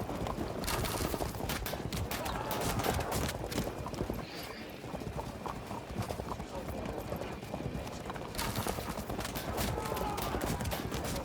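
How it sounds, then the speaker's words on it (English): Cavalry hooves gallop in the Field of Glory 2 strategy game, a dense, steady drumming of many horses with occasional neighs, loud and continuous, with a brief lull midway. "Cavalry showing up."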